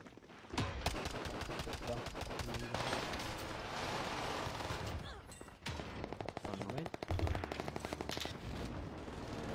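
Rapid automatic gunfire in a video game, dense bursts of rattling shots filling the scene almost continuously, loud and close, with brief pauses between volleys.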